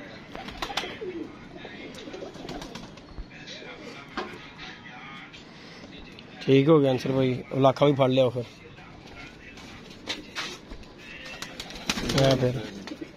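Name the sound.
pigeons cooing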